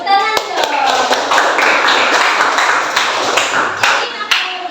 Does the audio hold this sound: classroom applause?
yes